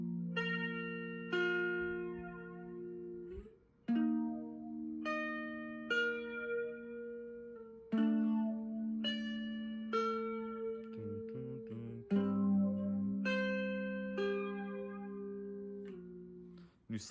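Electric guitar playing a bridge passage through a flanger effect, a series of ringing sustained chords and single notes struck every couple of seconds, each decaying slowly with shimmering overtones, clear and alone.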